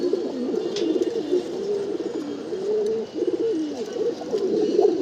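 A male pigeon in a loft coos repeatedly in low, throaty, rolling phrases, steady and close, with faint background rustle and a few soft clicks.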